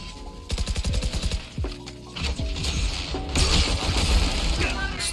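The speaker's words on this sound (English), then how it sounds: "Stinger go brrrr" Rapid automatic fire from the Stinger submachine gun in VALORANT, bursts of fast repeated shots with mechanical clatter and game effects layered over continuous background sound, fairly loud and close.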